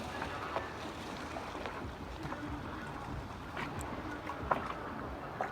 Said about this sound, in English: A rather loud French boat right next to us on charter